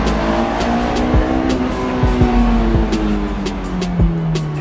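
A Honda S2000 sports car engine revs hard and loud close by, rising and falling through repeated high-revving pulls with brief tire noise, no talking.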